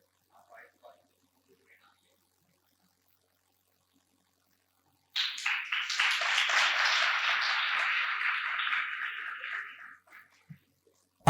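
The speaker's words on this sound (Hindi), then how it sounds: "जोरदार तालियां सर के लिए।" Audience applause at an awards ceremony for olympiad students, a steady burst of many hands clapping that starts midway and runs about five seconds before stopping, preceded by faint scattered sounds.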